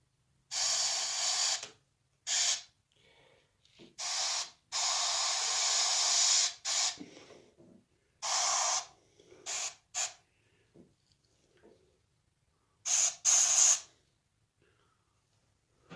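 An airbrush sprays paint onto a coyote mount in repeated short hissing bursts of varying length, separated by quiet pauses with faint handling noises, close and fairly loud.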